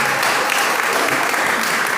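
A congregation at a family worship service breaks into loud, dense applause that stays steady for about two seconds, with a hint of voices underneath.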